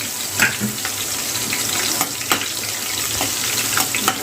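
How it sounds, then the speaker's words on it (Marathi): Green chillies fry in hot oil in a pan for veg fried rice, giving a steady bright sizzle with small crackling pops scattered through it, close and continuous. "थोडंसं मिरचीला पहिला चांगलं फ्राय करून घेऊया"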